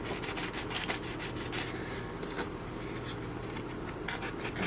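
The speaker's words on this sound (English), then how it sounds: "I'm getting rid of the CA with a coarse sandpaper" Coarse sandpaper rubs CA glue off the surface of a wooden model tugboat, a steady close scratchy rasp with quick back-and-forth strokes, louder at the start and end.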